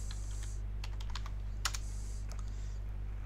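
A name typed on a computer keyboard, a quick run of close, light key clicks in two short bursts over a steady low hum.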